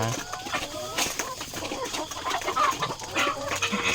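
Chickens in a rural Thai yard in the morning, several hens clucking and squawking close by in irregular bursts over faint background noise.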